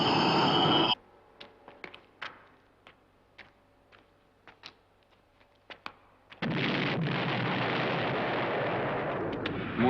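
Explosions on a moon base surface: a dense blast opens, then scattered sharp bangs and pops follow at irregular intervals, before a long, loud, roaring eruption takes over and continues to the end.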